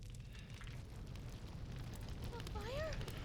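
Fire burning inside a library in the video game Fear the Spotlight, a low steady roar and crackle throughout, with a faint voice-like sliding tone near the end.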